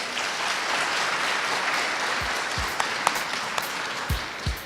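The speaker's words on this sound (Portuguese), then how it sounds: "palmas para ele" Audience applause at a startup project pitch event, a steady wash of many hands clapping with a few sharper individual claps and thumps standing out near the end.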